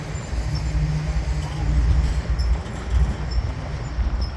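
A freight train rolls past close by, a dense low rumble of wheels and cars swelling and easing with a faint high squeal on top, no talk.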